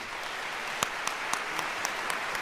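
An audience applauds at the opening ceremony of the Leipzig Book Fair, a steady wash of clapping from a large crowd with a few sharper individual claps standing out.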